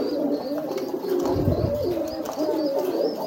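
A domestic pigeon brooding an egg coos in low, throaty rolling phrases close by, with faint chirps from other birds in the background.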